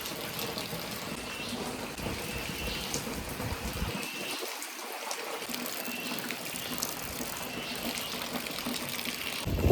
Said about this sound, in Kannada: ಫುಲ್ ಮಳೆ ಆಗ್ತಾ ಇದೆ.